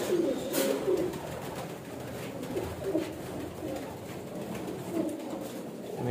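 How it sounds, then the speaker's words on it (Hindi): Pigeons cooing softly and repeatedly in a quiet setting, low throaty calls that come and go at moderate distance. "एक ये कबूतर है"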